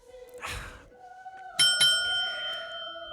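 A bell rung at an inn's front desk gives two bright, ringing dings close together, each leaving a long sustained tone that fades slowly, after a brief muffled bump.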